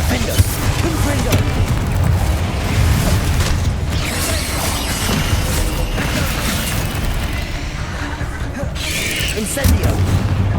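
Bombarda and Confringo spell explosions in the Hogwarts Legacy video game, a dense run of booming blasts and crashing impacts over a loud battle soundscape, with voices shouting in the middle of the fight.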